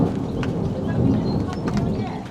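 Thunder from a nearby lightning strike rolls as a loud, continuous low rumble that fills the whole moment, heard from aboard a narrowboat.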